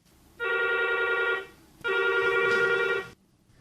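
A telephone rings twice in long electronic trills separated by a short pause, loud and close, with no voices, as a call comes in to a radio phone-in programme.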